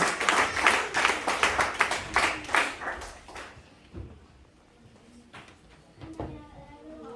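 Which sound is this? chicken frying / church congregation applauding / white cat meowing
church congregation applauding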